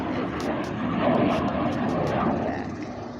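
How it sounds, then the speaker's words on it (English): A propeller airplane drones steadily overhead, its engine rumble swelling and easing slightly as it passes at a moderate distance. "here are noises of airplanes"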